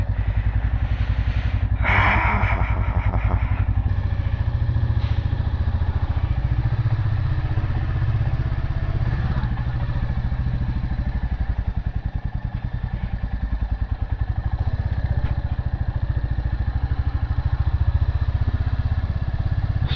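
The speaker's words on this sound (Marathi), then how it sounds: "थोडासा कोल्ड स्टार्ट देऊया एक" A motorcycle cold-started early in the morning, with a brief cranking clatter near the start before the engine settles into a steady, loud, close idle that throbs evenly to the end, no talking.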